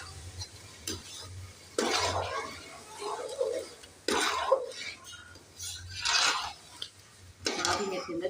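A spoon stirring ground pumpkin in a pan for kaddu ka halwa, giving intermittent scraping bursts against the pan between pauses, fairly quiet, with a soft low hum underneath.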